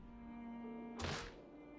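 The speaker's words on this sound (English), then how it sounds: "Every single word, she stamped her heel and banged furiously on the wall." A single dull thud of a heel stamp or fist banging on a wall in the Umineko visual novel, one short impact over a steady music bed.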